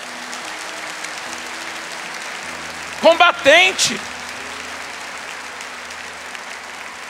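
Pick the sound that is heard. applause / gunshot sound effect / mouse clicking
applause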